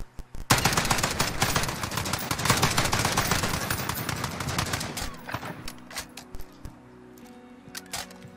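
Fast automatic gunfire rattles through a video game gunfight-mode match, a sustained, loud barrage that thins after about five seconds into scattered single shots and clicks.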